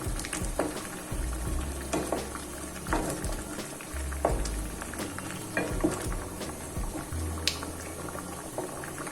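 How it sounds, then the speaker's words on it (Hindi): Rasmalai patties cook in a thickening milk mixture, bubbling steadily while a spoon stirs, with repeated scraping strokes and low rumbling from the burner throughout. "बराबर हिलाते जाएंगे और अच्छे से पका लेंगे 2 मिनट तक"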